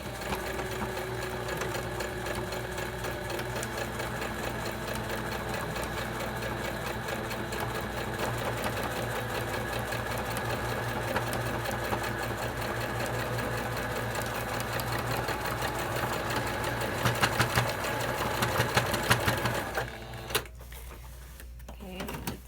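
A sewing machine runs steadily, stitching a 5/8 seam on a homemade heat pack with a continuous whirring motor drone and rapid needle chatter, briefly louder near the end before stopping.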